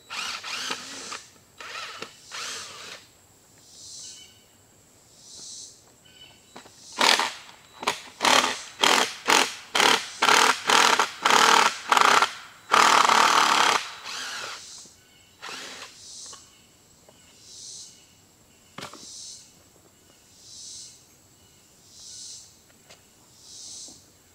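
A chainsaw mill cuts through an oak log, the saw revving in a run of rapid, regular bursts before holding one long loud roar, then easing back to a softer, pulsing idle.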